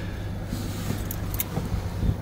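Keys jingle and clink as the ignition key is turned on a Komatsu D20A-5 bulldozer with a 39 hp 4D94 engine, brief metallic rattles over a low steady engine rumble.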